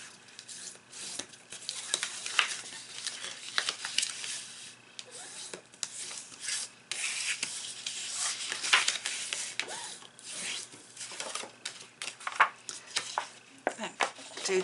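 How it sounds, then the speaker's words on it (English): A bone folder folds and burnishes score lines on paper for a handmade recipe box, making close, dry rubbing and scraping strokes that repeat steadily with no talking. "only thing I'm going to do is just fold and burnish all the score lines"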